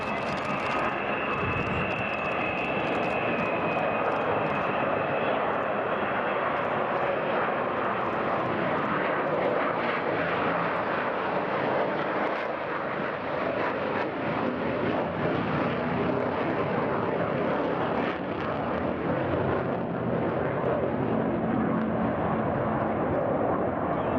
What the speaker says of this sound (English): It became the first successful operational delta-winged aircraft in the world.